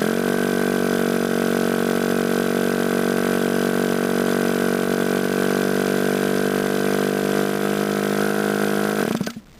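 A small model glow engine runs at a steady high-pitched buzz, holding its whine evenly before cutting off abruptly at the end.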